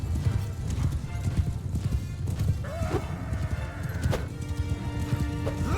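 Horse hooves clip-clop steadily in the battle game Realm of Thrones, mixed with a whinny and dense combat noise.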